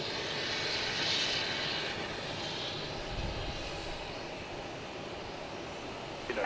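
Airplane engines roaring steadily at Logan Airport, a broad constant rumble at moderate distance that holds level throughout as a plane takes off, with no voices.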